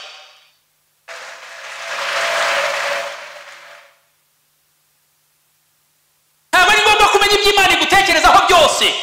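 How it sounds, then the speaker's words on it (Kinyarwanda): A congregation applauding in a cathedral, a swell of clapping that rises and fades after a brief opening, followed later by loud singing voices with instruments. "Reka dukomere iyo Mana yacu amashyi"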